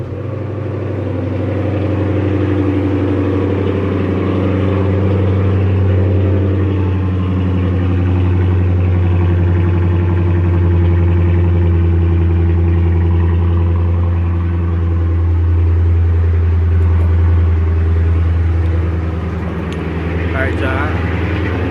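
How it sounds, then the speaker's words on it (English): A straight-piped Dodge Charger R/T idles after a cold start with a deep, loud, steady rumble that swells and settles, while someone talks over it. "nice little cold start real quick"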